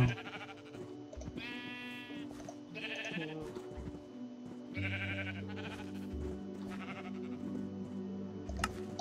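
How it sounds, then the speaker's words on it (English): Minecraft sheep bleat in several short, wavering calls spaced a second or two apart, faint against a quiet game background with soft incidental sounds. "Dude, those sheep are so loud."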